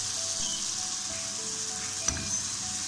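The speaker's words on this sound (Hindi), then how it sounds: "सब्ज़ी हमारी अच्छी तरह फ्राई हो चुकी है और गल चुकी है" Vegetables with tomato ketchup and green chilli sizzle steadily in a pan on a stove while cooking spaghetti, a constant hiss of frying with a brief clink of a utensil near the end.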